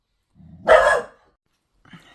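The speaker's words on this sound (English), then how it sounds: "Sorry about the barking, guys." A single sharp dog bark rings out nearby, followed after a short pause by a faint, muffled yip.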